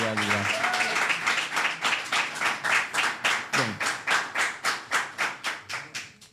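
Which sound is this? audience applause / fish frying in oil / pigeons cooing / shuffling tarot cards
audience applause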